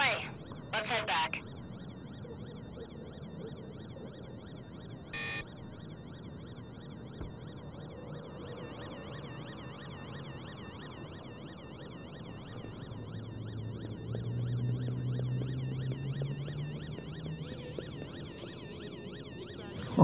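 Police sirens in the Watch Dogs 2 video game wail continuously at moderate distance, rising and falling throughout, mixed with city ambience and brief louder game sounds.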